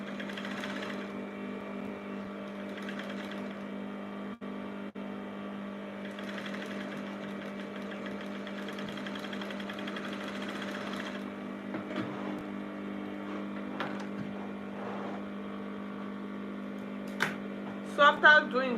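Sewing machine stitching piping around the pleats of an off-shoulder puff sleeve, a steady mechanical hum running throughout with a few sharp clicks near the end.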